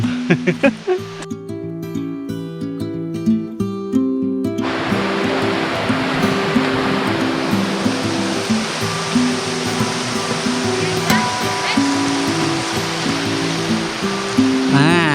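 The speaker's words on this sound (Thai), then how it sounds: "ลองฟัง เสียง มีน้ำตก มีนกร้อง" Waterfall in Chae Son National Park, Thailand, a loud, steady broadband rush of falling water heard up close, with a faint bird call and a brief voice near the start.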